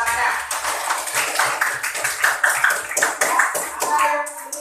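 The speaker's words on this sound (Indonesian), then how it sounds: "Kita beri tepuk tangan ya." Classroom applause from a group of students, a short burst of scattered clapping that swells and fades, with children's voices and a speaking adult mixed in.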